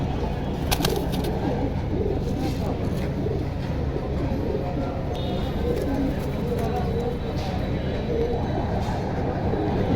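Pigeons for sale at a market coo repeatedly in soft, low murmurs amid crowd chatter and general background noise that never lets up.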